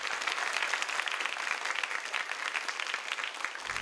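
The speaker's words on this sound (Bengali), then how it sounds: "একবার জোরে হাততালি স্যারের জন্য।" Loud, dense applause from a crowd welcoming a teacher at Madhabpur High School, with steady clapping that holds evenly before cutting off near the end.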